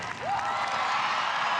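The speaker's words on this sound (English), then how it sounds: "Standing ovation" A crowd at the 2019 Skate America figure skating men's free event rises in a standing ovation, a broad roar of clapping and cheering that swells quickly and holds steady.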